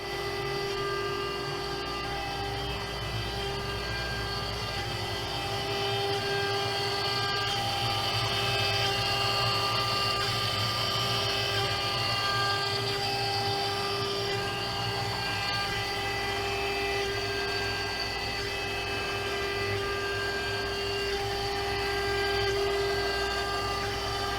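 A CNC machine with a dust shoe cuts MDF, giving a steady, loud whine with sustained tones and a low rumble that holds for the whole stretch without pause or talk.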